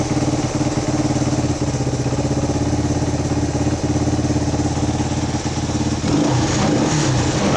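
A Honda XL125S single-cylinder motorcycle idles steadily after a valve adjustment, with an even, close putter throughout and a slight change in tone and loudness toward the end.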